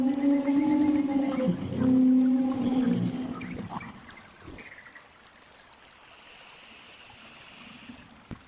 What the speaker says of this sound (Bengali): এই দামি জঙ্গলের ভিতরে লাইট ও সাউন্ড ইফেক্টের সাথে লেপার্ড, হাতি, বাঘ, বাইসন, হরিণ ও নানান পশু পাখিদের এক গভীর জঙ্গলে দেখার অনুভব করতে পারবেন।